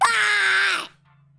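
A person gives a dinosaur impression, a single loud, close, drawn-out screechy roar lasting under a second before cutting off into quiet, a human voice imitating the creature.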